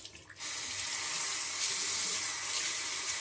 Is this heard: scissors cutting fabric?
no